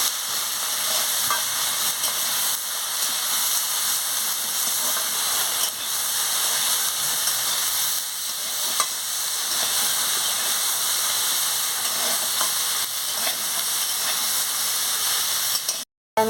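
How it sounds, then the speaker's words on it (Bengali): Vegetables being stir-fried with turmeric powder in a pan, a loud, continuous sizzle and hiss with stirring scrapes throughout, close up and with no talk. "দিয়ে ভালো করে আনাজটাকে কষিয়ে নিচ্ছি।"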